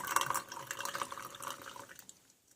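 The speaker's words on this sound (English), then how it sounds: "Sometimes just tap it a little bit more water might come out." Water trickles and drips from the opened oil filter of a Harvest Right freeze dryer, a close, splashy flow that thins out and fades to a few quiet drops.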